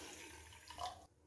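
Water poured from a bowl into a pot or pan holding sugar, a steady splashing pour lasting about a second before it cuts off.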